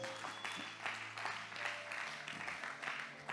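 A church congregation applauding during a sermon, producing a steady patter of clapping from many hands mixed with cheering voices and lingering music tones.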